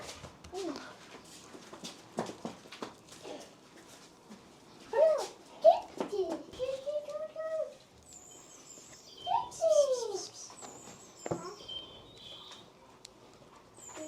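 A small bird chirps in a home kitchen, with short, thin, high chirps scattered among people talking and a voice.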